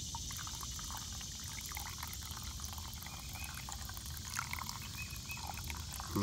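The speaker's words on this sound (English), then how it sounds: "I'm gonna pour a little bit of water down the spout here" Water pours in a quiet, steady trickle down the spout into a coffee pot of cowboy coffee, continuous throughout.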